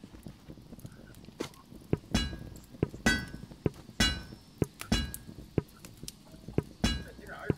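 Metal hammering while crafting in the VR game A Township Tale: a series of sharp, ringing clanks struck at irregular intervals, about seven hits, fairly close, with brief voices between them.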